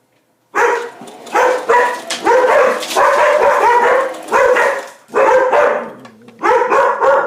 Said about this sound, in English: my dogs are barking at something